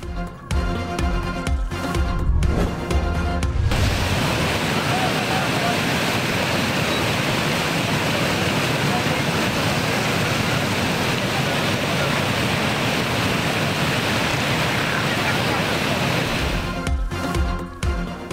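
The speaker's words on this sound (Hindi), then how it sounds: "तेज बारिश के बायस इस्लामाबाद की सड़कें पानी पानी" Heavy rain pouring onto flooded streets in Islamabad, a dense, steady roar of falling water and rushing floodwater that runs loud and unbroken, with brief stretches of other sound at the start and end.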